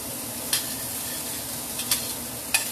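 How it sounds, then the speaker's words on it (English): Meat sizzling in a pan on a stove burner, a steady crackling hiss with a few sharp scrapes or pops standing out, close and without talk. "Sizzling."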